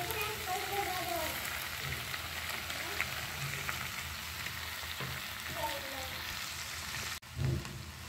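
Mung beans fry in a pan with a steady crackling sizzle that runs throughout, quiet and close, with a brief clatter near the end.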